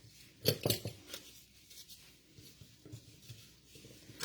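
Chin-chin dough being cut on a surface, a few quick crisp snips and scrapes close by, then softer intermittent cuts, quiet with no talking.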